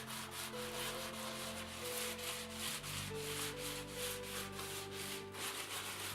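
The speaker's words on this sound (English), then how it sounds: "I'm sanding here with waterproof 280 grit." Continuous close strokes of waterproof 280 grit sandpaper rasp across a wooden dolls house facade, a steady scratchy rubbing over a faint background hum.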